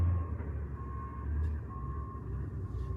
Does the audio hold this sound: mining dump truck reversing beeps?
yes